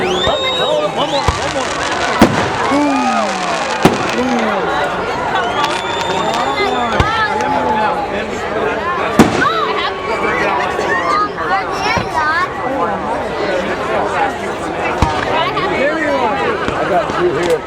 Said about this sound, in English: It'd be fun to be the one setting off those mortars and stuff.